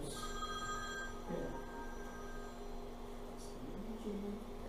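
A telephone rings in a classroom, a sustained electronic ringing tone that carries on steadily with no speech.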